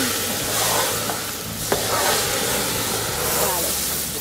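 Water boiling in a cooking pot while a dish is prepared, a steady hiss and bubbling with a small clink partway through, while someone speaks over it.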